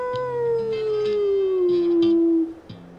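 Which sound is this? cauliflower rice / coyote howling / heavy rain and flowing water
coyote howling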